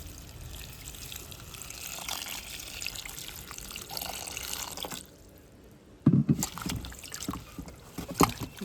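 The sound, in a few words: papaya leaves being washed with water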